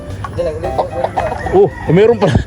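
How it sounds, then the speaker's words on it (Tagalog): A rooster, the father bird of a backyard flock, gives a run of close, loud clucks and short throaty calls, bunched in uneven bursts over a couple of seconds. "Tandang pala to"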